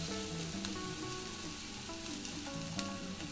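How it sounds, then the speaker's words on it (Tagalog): Chopped onion sizzles in hot cooking oil for spaghetti sauce, a steady close crackle with a couple of sharp pops, while background music plays underneath. "Pag mainit na yung ating mantika, ilagay na sibuyas."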